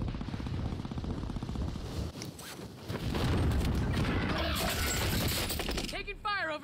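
Gunfire fills a Warzone Rebirth match in rapid bursts of shots and impacts, with voices talking over the fighting and game sounds from start to finish.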